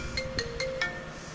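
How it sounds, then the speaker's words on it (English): A phone ringtone chimes a quick run of four bright tones, clear and moderately close over a low background murmur, on a cattle farm during calving. "the phone is ringing"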